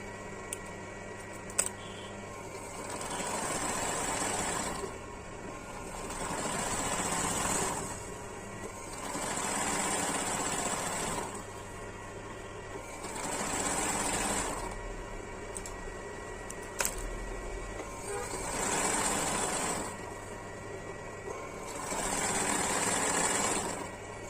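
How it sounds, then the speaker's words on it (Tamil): A sewing machine stitches a zigzag edge on cut fabric pieces, running in steady bursts every few seconds with short pauses between, close and moderately loud. "இப்படி தைச்சி எடுத்தோம்னா ரொம்பவே அழகாக எட்ஜை வந்து சுடி தைச்ச மாதிரி"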